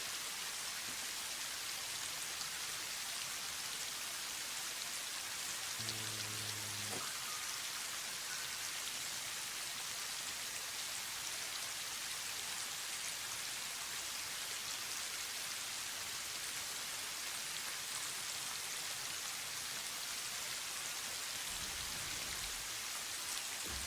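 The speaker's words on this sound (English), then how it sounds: "I was just thinking, geez, the rain's loud." Steady rain pours in the factory-building video game Satisfactory, a dense, even hiss holding for the whole stretch with a brief low tonal blip early on and a soft thump near the end, no voices.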